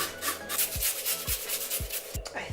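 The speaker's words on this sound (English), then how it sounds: "it's easiest to use a grater because carrots are very difficult to chop up" Carrot rubbed against a kitchen grater for Filipino lumpiang shanghai spring rolls, a rhythmic series of rasping strokes at a steady pace, close and moderately quiet with no talk.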